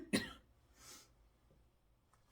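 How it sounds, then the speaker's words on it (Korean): A single sharp cough from a preacher, close and loud, followed by a fainter throat sound in an otherwise quiet room. "몸살이가 조금 남아있어서 기침이 나네요."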